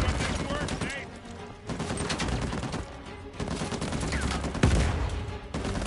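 Gunfire in Uncharted 4: A Thief's End, with repeated shots and bursts spread across a busy, noisy mix and a louder crack near the end, partly under a talking voice.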